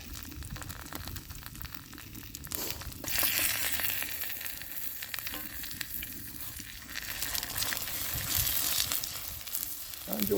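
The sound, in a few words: scrambled eggs frying on homemade propane tank camp stove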